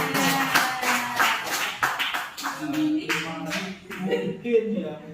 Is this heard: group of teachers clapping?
yes